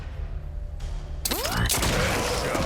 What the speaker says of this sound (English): So they just elected to take 2 shots with the sniper.